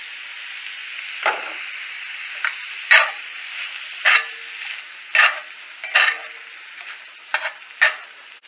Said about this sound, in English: I'm going to fry this for like 1 to 2 more minutes